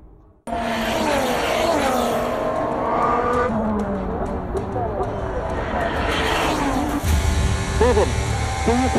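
A Formula 1 car in the F1 23 video game spins out, its engine wailing and tires squealing and skidding, with loud race-car noise running throughout and an excited commentator's voice over it.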